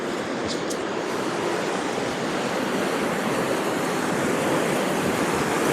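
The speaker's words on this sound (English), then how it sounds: "It just shows you how much water is running down through here." River water rushing through an old canal branch past a broken concrete wall, a steady, loud, continuous roar of flowing water with no pauses and no voices.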